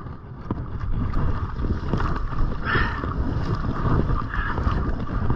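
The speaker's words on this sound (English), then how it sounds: "Wow, this wind is really strong." Strong wind buffeting at a river shore along the Tweed River, a constant loud rushing roar with gusty surges, close and continuous without talk.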